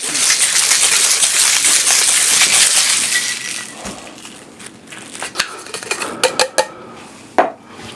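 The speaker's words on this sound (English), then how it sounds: "Top that off, give it a shake." A cocktail shaker packed with ice and a keto cranberry drink is shaken hard, giving a loud, dense rattle for about three seconds before it fades into scattered clinks and taps.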